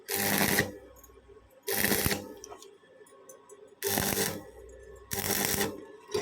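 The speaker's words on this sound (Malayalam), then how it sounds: "നമ്മൾ വെൽഡ് ചെയ്യണതാണ് കാണാൻ പോണത്" Welding on the back side of steel framing produces four loud, crackling bursts of arc noise separated by quieter pauses with low background hum.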